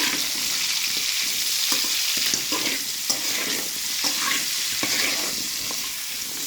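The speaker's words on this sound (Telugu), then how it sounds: "వంకాయ ముక్కలు కూడా ఇలా వేయించుకుంటే మంచిగా ఉంటుంది" Eggplant pieces fry in a pan with a loud, continuous sizzle and crackle, while frequent stirring adds small scrapes and knocks throughout.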